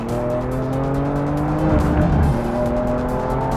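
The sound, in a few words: BMW M car sliding on race track, tires squealing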